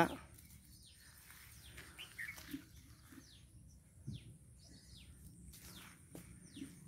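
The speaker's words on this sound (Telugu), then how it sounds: "ఇంకా ఆ పిట్టి కూడుస్తున్నాడు చక్కగా" Faint birdsong in a Miyawaki food forest with breadfruit trees, several short distant chirps and calls scattered over a quiet outdoor background hum.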